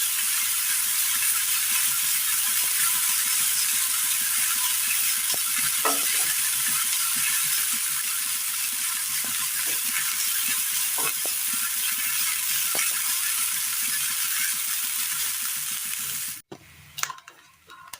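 Grated coconut dry-roasting in a pan for a quick snack, a dense continuous close sizzle with occasional soft spoon scrapes throughout, ending in a few louder clattering knocks.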